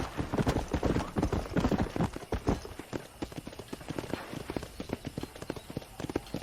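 Horse hooves clip-clop in a quick, steady rhythm in the video game Red Dead Redemption, close by and continuous, with a faint background of other noise.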